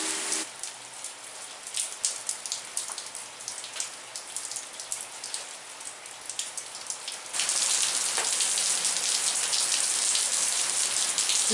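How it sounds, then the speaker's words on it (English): Rain patters steadily on a surface, then suddenly intensifies into a dense, hissing downpour that continues to the end. "It started pouring rain."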